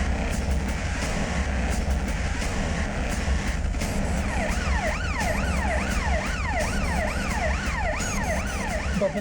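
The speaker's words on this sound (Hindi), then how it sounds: "4 एम्बुलेंस पीछे और आ रही है।" An ambulance siren wails steadily with a rising and falling two-tone sweep, loud and close over continuous road traffic rumble, with no voices.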